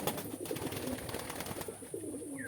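Pigeons on a farm coo softly in low, repeated murmurs, with rustling and fluttering close by and a faint steady hiss beneath.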